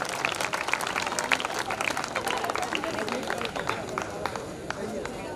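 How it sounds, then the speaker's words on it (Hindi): Audience applause at an ex-servicemen welfare association program, with dense, steady clapping that carries evenly through the whole stretch and sounds loud and close, like a full hall responding together. "एक बार जोरदार तालियों के साथ"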